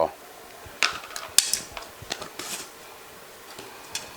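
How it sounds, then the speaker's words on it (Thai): A metal spoon mashes shrimp paste in a container, giving irregular close clinks, taps and scrapes that are sharp but fairly quiet and scattered over a few seconds. "เอาช้อนเราบี้บี้บี้ให้มันละเอียด"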